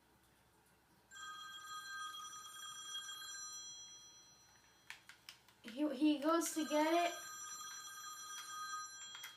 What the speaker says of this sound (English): he heard a phone call.